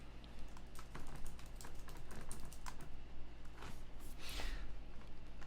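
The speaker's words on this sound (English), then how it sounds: "So we'll type something like" Someone types on a computer keyboard in a fast, uneven run of close key clicks over a low steady hum, with no speech.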